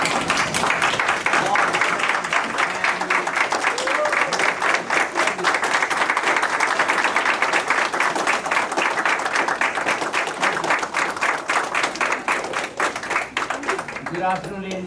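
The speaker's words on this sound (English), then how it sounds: "give the great applause to these graduates" A large crowd at a college graduation ceremony claps loudly and continuously for the graduates. The sound is a dense, steady roar of hands that tapers slightly toward the end.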